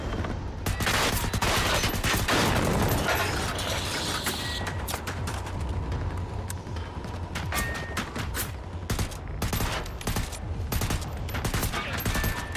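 Dense, sustained automatic gunfire from the video game Generation Zero, with rapid overlapping shots and heavy bursts filling the whole stretch, loud and continuous.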